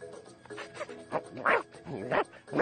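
Cartoon dog barking and yipping in a French-dubbed Garfield animated episode, several short bursts spread over a couple of seconds, the loudest two near the end, over a faint background with some speech-like sound.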